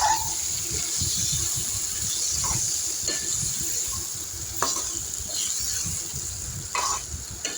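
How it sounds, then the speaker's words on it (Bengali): Marinated mutton fries and is stirred in an oiled kadai: a steady close sizzle with scattered scraping clicks from a spoon working through the meat, no voices. "দিয়ে মাখানো মটনটাকে আমি এবার দিয়ে দিচ্ছি কড়ার মধ্যে। দিয়ে আমি ভালো করে এবার কষিয়ে নেব।"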